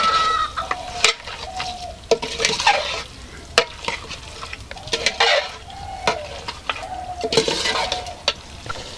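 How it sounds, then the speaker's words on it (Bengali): Meat fried with spices in a pan and stirred hard, giving a continuous sizzle with repeated scraping strokes at an uneven rhythm throughout. "মাংসটা দিয়ে এবার ভালো করে মশলার সাথে কষিয়ে নিচ্ছি।"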